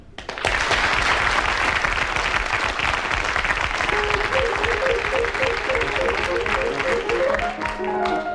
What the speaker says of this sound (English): A nice round of applause for Clement.